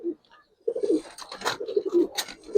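A pigeon coos up close in soft, throaty rolling phrases, two or three bursts with brief pauses between them.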